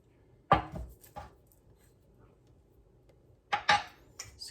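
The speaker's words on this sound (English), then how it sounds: "Scrape the sides down" A spatula scrapes the sides of a bowl of sourdough brownie batter in a few short, close scraping strokes, separated by quiet pauses.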